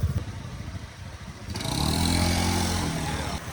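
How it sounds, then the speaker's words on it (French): A small scooter engine hums and rises as it rides along a wet road in Laos, with road rumble and wind noise building in the second half. "Et voilà, en scooter."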